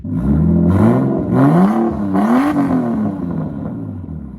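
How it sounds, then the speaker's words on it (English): A Nissan Skyline R32 GTS-t with a catless ISR 4-inch straight-pipe exhaust and downpipe revs loudly and close, climbing and falling through several throttle blips with a rough, raspy tone and no talking. "It sounds so good. Here's an exhaust clip."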